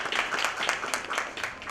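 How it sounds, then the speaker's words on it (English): Audience applause at a CSR conclave awards ceremony, a brief burst of clapping in a hall that stays moderately loud from start to end. "a huge round of applause to Bengal Chamber of Commerce for beautifully organizing this program"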